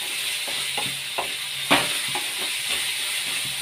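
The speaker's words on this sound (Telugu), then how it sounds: "ఇలా ఎర్రగడ్డ కలుపుకుంటూ వేయించుకోవాలా" Onions, with curry leaves in the pan, fry with a steady, loud hiss and sizzle while a spoon scrapes and stirs in a few soft knocks, with no talking.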